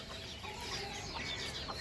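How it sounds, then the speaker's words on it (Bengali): Chickens cluck faintly in a short, quiet burst of soft, scattered calls from a little distance. "তো মুরগিগুলো এখানে আছে"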